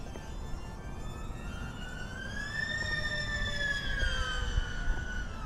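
FPV drone motors on a custom KUHL 35 freestyle build scream at full throttle, a steady high whine rising and bending in pitch over constant rushing airflow.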